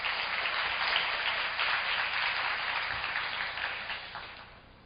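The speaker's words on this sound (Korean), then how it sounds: "여러분 큰 박수로 맞이해 주시기 바랍니다" An audience at a youth forum claps steadily to welcome a mentor speaker to the stage, a dense sustained round of applause that fades gradually toward the end with no talking over it.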